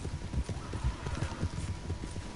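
Horse hooves in Red Dead Redemption 2 clip-clop in a quick, steady rhythm over a rough background, close and fairly faint.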